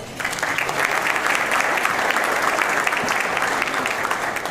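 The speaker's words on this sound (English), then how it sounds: "so give yourselves a round of applause." An audience at a State of the County address applauds the board, staff and chamber members, dense, even clapping sustained from start to finish with no voices.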